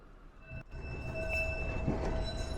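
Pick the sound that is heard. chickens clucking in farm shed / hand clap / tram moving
tram moving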